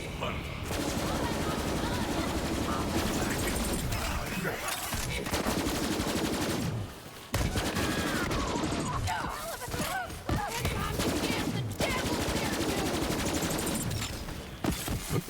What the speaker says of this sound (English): I'm just like shooting blindly at like the directions that the bullets are coming across this bridge